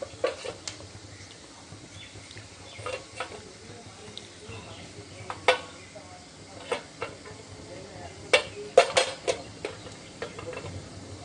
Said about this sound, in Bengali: আদা রসুন বাটাটা দিয়ে দিলাম, দিয়ে একটু ভালো করে নাড়তে হবে